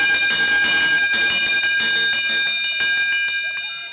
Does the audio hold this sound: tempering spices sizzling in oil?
no